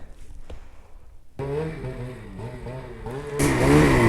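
Snowmobile engine revving hard while riding out on a trail, a loud close drone that rises and falls through several throttle surges and swells louder near the end.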